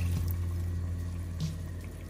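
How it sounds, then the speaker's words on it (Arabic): Pasta cooking water poured from a pot onto sauce in a home kitchen, a steady close liquid splash and trickle that runs without a break, with no voices over it. "بنزيد عليهم مية الباستا."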